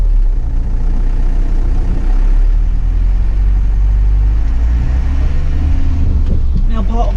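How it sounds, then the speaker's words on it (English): A Nissan Cabstar 34.10 short-wheelbase dropside truck runs with a steady, loud, low diesel engine drone close to the microphone, holding an even rumble throughout. "But firstly, I need to be getting the engine started up."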